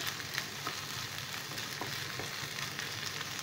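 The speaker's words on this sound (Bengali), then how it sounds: "এবার আমি পেঁয়াজটাকে হালকা ফ্রাই করে নেব, অর্থাৎ পেঁয়াজটা একটু ট্রান্সপারেন্ট হবে সেই অবধি ফ্রাই করব।" Onions fry in a pan over a medium flame for paneer bhurji, a steady, dense close sizzle with faint stirring, no voices.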